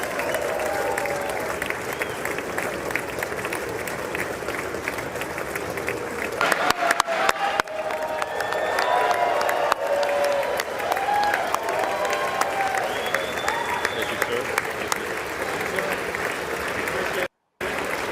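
A large chamber audience at the State of the Union claps for a long stretch, with a dense, steady roar of applause and scattered cheers that swell midway and stay loud throughout.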